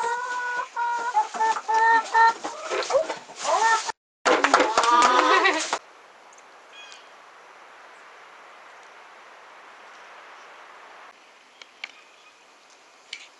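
Hens cluck and chatter in bursts up close, broken by a brief gap, then give way to a quiet, faint background hum with occasional small noises.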